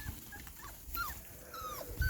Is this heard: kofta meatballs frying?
no